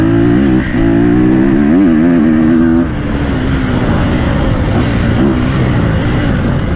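Motorcycle engine pulling loudly along a mountain trail in the Sudetes during an extreme off-road ride, with steady harmonic revs that shift pitch early on, then a rougher, continuous drone.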